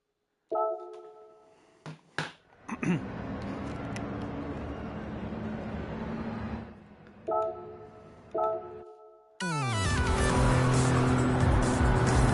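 A car driven in Gran Turismo 7, with engine revving up and settling to a steady drone, brief tonal beeps and chimes around it, then another burst of engine sound and a loud final segment.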